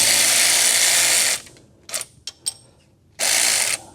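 A ratchet loosening a bolt on a 1966 Plymouth Fury's power steering pump gives a long, loud run of rapid clicking, then a few short ratcheting strokes. A second sustained burst of clicks follows.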